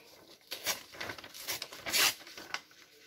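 Paper torn by hand for a junk journal page, a series of close, crackly rips coming in quick bursts over a few seconds, with one louder tear near the end.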